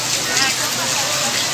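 Heavy rain falling in a steady, dense hiss, loud and continuous, with a voice speaking faintly beneath it.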